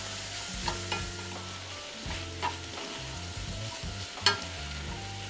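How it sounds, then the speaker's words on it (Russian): Minced meat sizzles and fries in a pan while a spatula stirs and scrapes, with occasional clinks against the pan and no talking. "И опять все будем помешивать."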